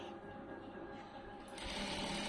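A sewing machine with a normal presser foot stitches piping onto cloth, a steady close mechanical hum and rattle that grows louder toward the end, with no talking.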